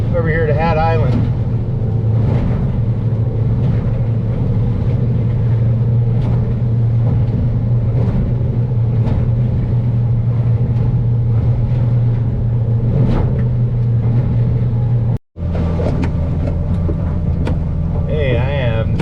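Stabicraft motorboat cruising at around twenty miles an hour over swells on the sound toward Hat Island, with a steady loud engine drone and hull thumps throughout and a voice talking over it.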